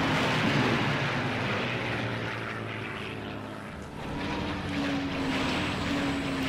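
A steady propeller aircraft engine drone in the flight game Iron Wings, loud and continuous for several seconds with a slight dip in the middle and no talk over it.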